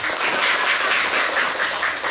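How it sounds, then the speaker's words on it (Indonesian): Classroom audience claps after a group presentation, a brief, steady burst of loud, dense applause with no voices over it. "Tepuk tangan dulu."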